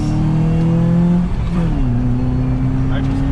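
Jeep engine revving hard in first gear on a nitrous test pull, a loud close roar with the pitch dropping and then climbing again, under a brief voice.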